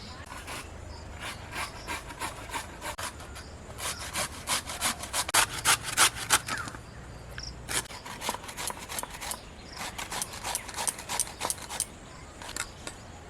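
Raw papaya is grated by hand on a grater in fast, rhythmic scraping strokes that come in bursts with short pauses, steady and close throughout.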